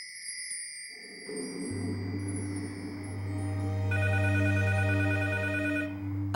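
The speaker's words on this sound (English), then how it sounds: "Rella gets a phone call." A telephone rings repeatedly over a low, sustained musical drone in a dramatized true-crime scene, the ring a bright trilling pattern that grows louder and clearer toward the end, with no speech.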